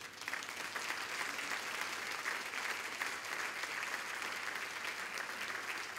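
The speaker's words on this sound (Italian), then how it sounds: "Potete applaudire." Audience applause fills a talk about an Italian painter and sculptor's artworks, a steady wash of many hands clapping at moderate volume throughout, with no voices over it.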